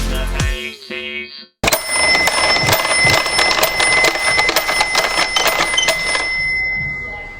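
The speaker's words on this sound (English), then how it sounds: "we can reveal that was the Fisher-Price Garage" A Fisher-Price Garage toy from the 1980s winds its lift upward with a rapid, steady ratcheting clatter of plastic clicks and a bright ringing tone running for several seconds, after a short burst of other sound.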